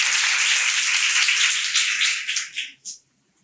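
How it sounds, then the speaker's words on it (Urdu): A church congregation at a Sunday service claps together in a dense, loud burst of applause that thins into a few scattered final claps before falling silent. "ایمانداروں ذرا زور سے تالیاں"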